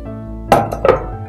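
A pressure cooker lid is opened after its pressure has been released, giving two quick metallic clinks and clanks over a low hum in a kitchen.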